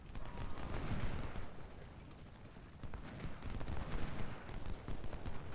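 Massed musket volley from Springfield 1842-armed grenadiers in a Civil War strategy game, heard as dense, crackling bursts of scattered gunfire rolling on and off over a noisy battlefield din.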